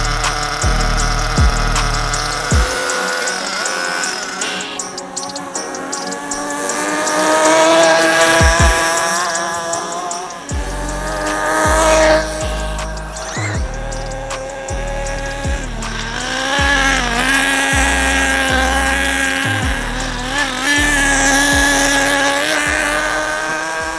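Nitro-powered RC car engines scream at a club track, several high-pitched motors revving, rising and falling in pitch as they speed past, loud and continuous for the whole stretch.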